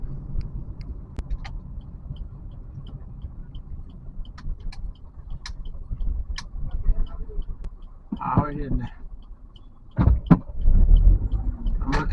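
An Uber car cruises along a smooth tarred road, its engine and tyres giving a low, steady rumble heard from inside the cabin. People talk over it, and there are a few brief clicks and knocks near the end.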